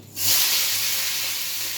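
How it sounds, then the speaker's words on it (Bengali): Sliced potatoes and slit green chillies hit hot oil seasoned with panch phoron, setting off a sudden loud, close sizzle that carries on as a steady hiss. "পাঁচফোড়নটা হয়ে গেলে এবার আমি আলুটা রেখে দিয়েছি আলু আর কাঁচা লঙ্কা চিড়ে নিয়েছি এবার এটা দিয়ে দেবো"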